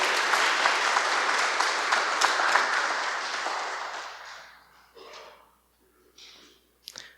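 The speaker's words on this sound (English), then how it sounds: "Let's give them a round of applause, all the siblings together on behalf of their brother." A crowd at a memorial event for fallen military heroes applauds the siblings of a fallen soldier, with dense sustained clapping that fades out over several seconds, followed by sparse rustles and a faint breath.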